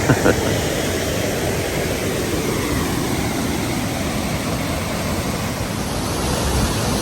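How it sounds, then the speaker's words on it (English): Mirror Lake Falls at Blanchard Springs Caverns, Arkansas, a waterfall heard close up as a loud, steady, broadband rush of falling water that stays constant throughout. "Mirror Lake Falls, Blanchard Springs Caverns, Arkansas."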